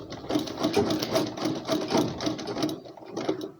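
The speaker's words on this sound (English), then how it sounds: "So I'm going to stitch here and then go back." A sewing machine stitching a buttonhole on a shirt, a close, steady rhythmic whir of rapid needle strokes that runs continuously and eases off near the end.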